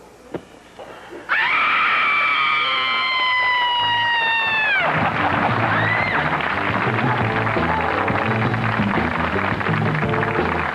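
A woman gives a long, loud, wavering scream that holds for several seconds before breaking into a burst of loud music leading into a commercial break on a horror show; close and piercing.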